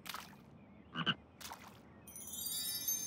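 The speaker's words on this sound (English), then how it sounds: "A green hoppy frog!" A cartoon frog in a children's animated show croaks in a few short bursts, spaced apart, followed by bright chiming music rising in the background.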